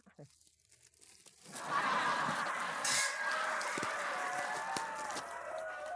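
Ducks quack steadily as a flock at feeding time, the calls starting softly and then swelling into a dense, continuous chorus that fills the rest of the clip.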